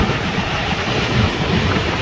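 Goods train loaded with a crane and JCB overtaking on a parallel track, a loud continuous rumble with rhythmic clickety-clack of wheels passing close by.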